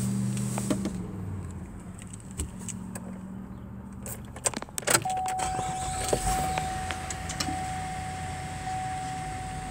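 A 2016 GMC Acadia AWD starts up and settles into a smooth, quiet idle inside the cabin, preceded by faint clicks and brief mechanical clunks, with a low steady hum and occasional electronic chime tones.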